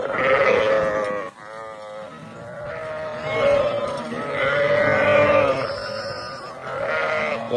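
A flock of sheep bleats nearby, several overlapping calls rising and falling in steady succession, with a brief dip in between.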